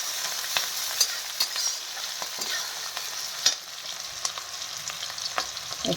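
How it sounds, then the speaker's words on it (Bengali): Chopped onion and green chillies sizzle in hot oil for a fish-head muri ghonto, a dense, even frying hiss close by, punctuated by regular scraping stirs of a spatula. "পেঁয়াজ আর কাঁচা লঙ্কা দিয়ে দিলাম। দিয়ে ভালো করে পেঁয়াজটা ভেজে নিই।"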